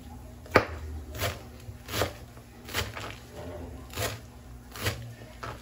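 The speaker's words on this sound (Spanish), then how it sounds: "picando el cilantro para los tacos." Knife chopping cilantro on a board, about eight separate sharp strikes spaced roughly evenly, close up, with faint background noise.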